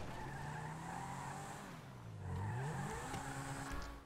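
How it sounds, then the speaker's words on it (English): Adder supercar in GTA V, engine droning steadily with tire squeal and skidding, pitch dipping and rising again midway, loud and close throughout. "Let's make it adder."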